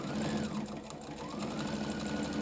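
A sewing machine runs steadily as it stitches down the center of tape on a chenille bowl caddy, a fast even mechanical whir with a rapid needle rhythm, close and moderately quiet.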